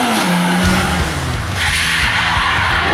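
A quad bike skids through a half-turn at an outdoor stunt show, a loud engine roar with falling pitch mixed with tire scrub and skidding noise that fills the whole moment.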